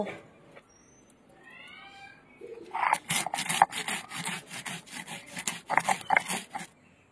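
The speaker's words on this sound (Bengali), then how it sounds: "সর্ষে আর পোস্ত একসাথে বেটে নেবো।" Mustard and poppy seeds are ground together on a stone, with rhythmic scraping, rubbing strokes that start after a quiet moment and carry on close and fairly loud.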